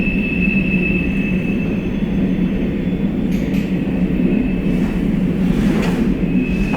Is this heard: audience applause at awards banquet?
no